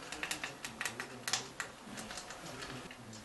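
Momentary switches on an old clock radio are worked repeatedly, giving a quick run of faint, light plastic clicks in an irregular rhythm over low background hiss.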